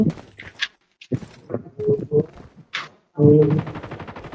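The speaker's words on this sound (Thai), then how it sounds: "มีคนยิงว่ะนี่เว้ย" Call of Duty gunfire: a few short, sharp shots and clattering game effects come in separate bursts between gaps, ending in a louder sustained burst, with talk mixed in.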